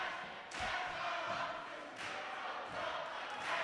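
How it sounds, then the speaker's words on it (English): Raucous crowd noise at a prep school basketball championship in Dalton Gym, a steady loud roar of voices with swelling shouts and occasional thumps from the floor. "A raucous crowd here at Dalton Gym, making it difficult for the officials and coaches to hear one another."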